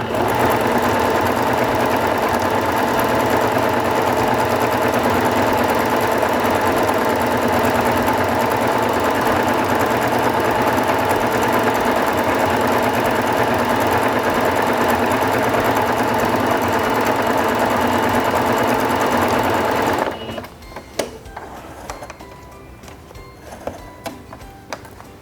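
Close and loud, a Singer Fashion Mate 5560 sewing machine stitches a decorative vine pattern, its motor humming and needle tapping in a fast, even rhythm for about twenty seconds before cutting off to near silence with faint handling.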